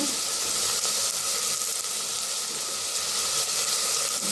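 Vegetables frying in oil for a vegetable pulao, giving a steady, even sizzling hiss that holds at a constant level throughout with no pauses.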